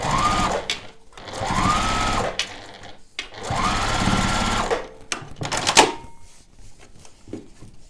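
Close, loud whirring of a sewing machine joining quilt scraps for a quilt-as-you-go panel, in two sustained runs of roughly two seconds each, then a scatter of clicks and clacks as the fabric is handled.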